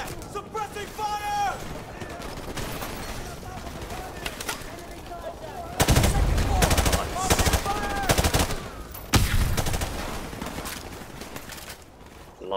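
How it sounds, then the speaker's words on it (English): Bursts of automatic gunfire in the Call of Duty: Modern Warfare Remastered campaign, loud rapid volleys coming in waves amid game noise, with voices calling out over the shooting. "Suppressing fire!"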